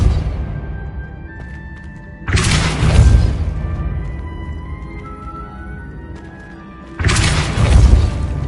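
Depulso spell impacts in the Hogwarts Legacy video game: two heavy booming blasts with crashing, shattering debris, each rising suddenly and loudly before settling into a rumbling tail.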